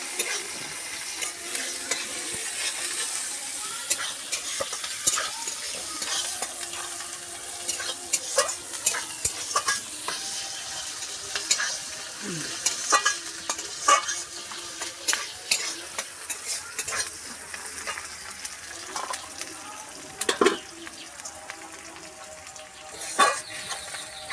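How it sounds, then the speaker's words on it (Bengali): Onions sizzle steadily in a hot wok while a spatula scrapes and stirs in irregular clinks throughout. "পেঁয়াজ দিয়ে দিচ্ছি"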